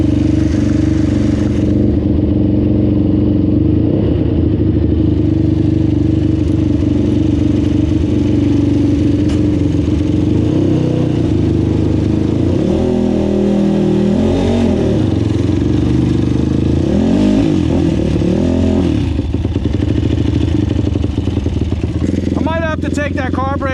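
A 2005 Honda TRX450R quad engine idles while warming up, a continuous mid-pitched rumble with a few small surges, heard close and steady throughout with no throttle blips.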